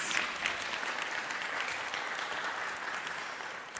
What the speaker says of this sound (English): So let's give a round of applause for all of our musicians.